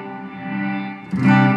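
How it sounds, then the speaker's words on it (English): An Electro Harmonix Cathedral guitar pedal in reverse reverb mode turns a sustained, effected guitar chord into a swelling wash that surges louder near the end, with no talking over it. "Two interesting ones is the reverse reverb."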